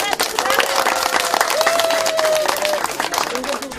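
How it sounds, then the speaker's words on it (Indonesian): Applause and crowd noise at a traditional Moi tribe wedding ceremony mark the marriage as official under customary law. Continuous clapping runs throughout, with voices and a higher vocal tone rising over it. "tepuk tangan sebagai tanda bahwa pernikahan mereka telah resmi dilakukan di hadapan hukum adat"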